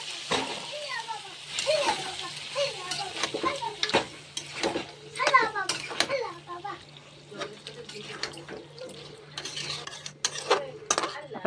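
Meat fries in a pan as spiced water is added, with a soft sizzle under the scraping and clinking of a spoon stirring against the metal. A person talks throughout.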